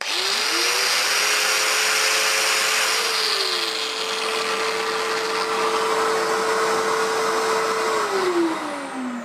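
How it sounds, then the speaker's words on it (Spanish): A Bosch angle grinder switched on remotely spins up to a steady, close, loud whine, followed by a vacuum cleaner starting and running alongside it, with the pitch falling away near the end. "la máquina encendió la esmeril angular, posteriormente encendió la aspiradora"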